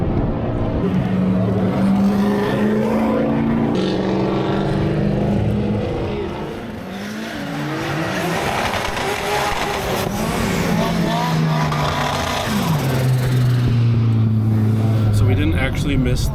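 A Mazda MX-5 drift car at the Ultimate Drift Challenge, its engine revving up and down in long sweeping pitches against screeching tires, loud and close, with someone talking over the noise.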